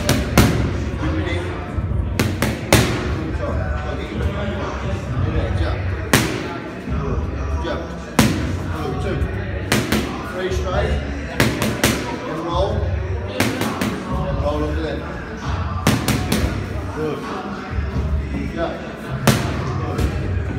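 Sharp pad strikes from a boxing jab and hook drill on focus pads, landing in quick bursts of slaps and thuds with short pauses between combinations, close and loud, while a coach calls instructions throughout.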